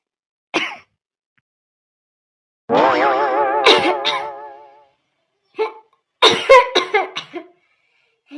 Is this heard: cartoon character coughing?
yes